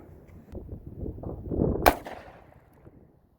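A single sharp gunshot from a .45 ACP pistol firing a 210-grain Federal Hydra-Shok round into ballistic gel, a loud crack rising out of low rumbling handling noise and fading quickly after.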